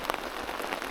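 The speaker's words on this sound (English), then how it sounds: "if it stops raining" Steady rain patters on a Swedish lake during a canoe trip, a soft, even hiss with scattered drops, close and faint.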